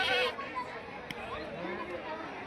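Goats bleat at a livestock market in Panditapuram, wavering calls rising over a low murmur of people chatting nearby.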